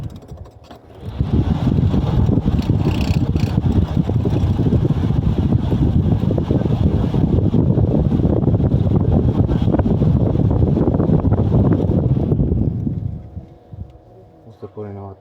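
A homemade fan driven by a 12V DC motor starts up and runs with a loud, steady rushing whir of moving air for about twelve seconds, then winds down.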